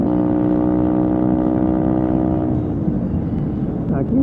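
Small motorcycle riding along a road, a steady close engine drone with a strong harmonic hum that shifts slightly near the end, loud and continuous.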